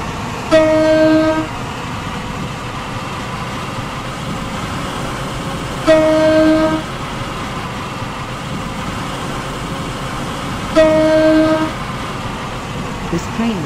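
A Class 185 train in a video game rolls along with a constant rumble, approaching a station, while its horn sounds three times at regular intervals, loud and close.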